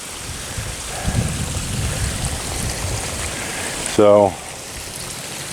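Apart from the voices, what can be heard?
fresh water flowing into a shrimp pond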